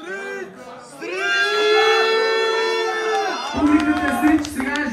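A crowd at a freestyle rap battle in Varna cheers and shouts in a loud, sustained roar of voices that rises, holds, then breaks into scattered yells near the end.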